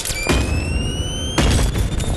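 Bomb explosion in the VR game Animal Company: two loud, close booming thuds about a second apart, each with a short rumbling tail, set against faint steady background tones.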